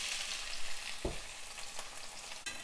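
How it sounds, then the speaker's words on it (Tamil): Onions sautéing in oil for an okra tamarind curry, a bright, dense sizzle throughout with a few soft stirring knocks, heard up close and without any voices. "நல்லா வதக்கலாம்."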